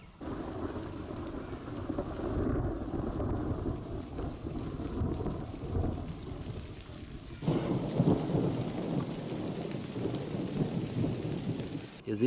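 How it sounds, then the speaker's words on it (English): A thunderstorm with steady rain pattering on surfaces and low rumbling thunder rolling in the distance, the downpour growing heavier and louder toward the end. "This looks like a thunderstorm."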